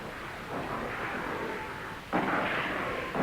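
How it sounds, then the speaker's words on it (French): A low, distant rumble of cannon fire rolls on, then a heavier booming blast cuts in about two-thirds through and lingers. "Des canons."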